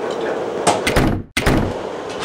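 A door is closed with a couple of solid thunks and a slam, followed by a sharp cutoff and more rattling knocks, fairly loud and close.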